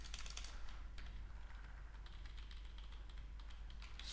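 Soft, rapid keystrokes on a computer keyboard while a file is edited during a Drupal 7 install on Ubuntu, a quiet, steady run of clicks with no talking.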